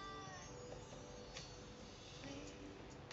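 A cat meows several times during a livestream, faint drawn-out cries over a low background hum.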